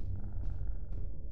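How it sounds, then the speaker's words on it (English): Low, throbbing cat purr from a video game, a soft continuous rumble heard close with faint brief higher-pitched blips layered over it and no talking. "As long as you're purring, everything will be fine."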